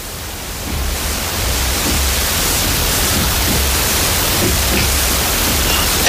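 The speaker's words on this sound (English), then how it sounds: "We're at the top of an enclosed tower inside a castle, and yet there is a wind." Wind moves through an enclosed castle tower as a steady, loud broadband rush that swells in within the first second and then holds constant, with no voices over it.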